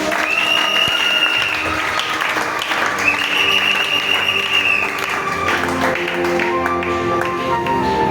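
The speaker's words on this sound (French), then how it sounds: "Tu peux acclamer pour la parole du Seigneur." A church congregation applauds with sustained, dense clapping, steady and fairly loud throughout, while sustained musical tones ring underneath.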